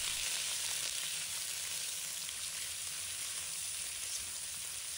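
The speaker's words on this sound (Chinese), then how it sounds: "把锅烧热，往里倒入少许食用油，把五花肉放入锅中，把它煸出多余肥油" Pork belly rendering in a little hot cooking oil in a heated wok hisses with an even, continuous sizzle, soft and close, with no voices.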